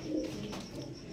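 A female pigeon of a fancy antique-eyed breed coos softly and low, a close, steady murmuring call alone against quiet background hiss, with no talking.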